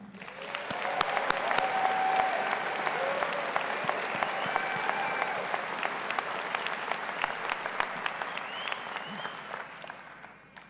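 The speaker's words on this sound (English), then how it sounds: "please join me in giving all of the graduates a round of applause" A graduation commencement audience at Southern Utah University applauds steadily for the graduates, dense clapping from a large crowd that holds strong for about ten seconds before slowly tapering.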